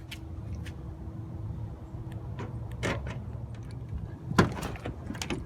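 A Ford Ranger truck door is opened amid soft handling clatter and a few sharp clicks and knocks, with a louder latch-like clunk near the end.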